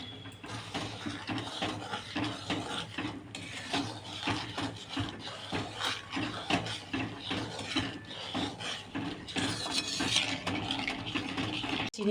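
A spoon scrapes and rubs steadily around a pan of sugar loosened with a little water for coconut sandesh. The stirring is close and continuous, with no talk over it.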